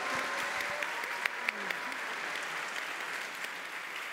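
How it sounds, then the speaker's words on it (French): An audience at a student event applauds, a steady moderate clatter of many hands with a few sharper individual claps standing out. "On peut l'applaudir"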